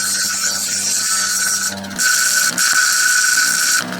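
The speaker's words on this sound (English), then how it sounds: "I think this is yellow jasper. We're going to just round the edge and then we'll try cabbing it." A small 3D-printed desktop lapidary machine runs loudly and steadily while rounding the edge of a yellow jasper stone, with a high whine and a grinding tone that shifts as the stone is pressed against the wheel.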